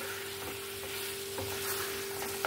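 Boiled and fried eggs and potatoes are stirred into a frying masala for egg curry, giving a soft, continuous sizzle with faint spoon scrapes.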